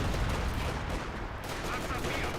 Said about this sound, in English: It was Panzer artillery.